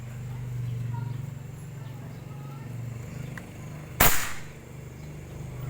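A single sharp shotgun blast at clay targets cracks out once near the end, loud and close, after a few seconds of low ambient hum.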